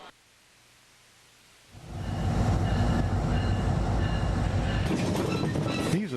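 Freight train hauling Space Shuttle solid rocket booster segments across the country from Utah, rumbling in loudly after a quiet start with a sustained roar of wheels and rail noise, with faint squeals near the end.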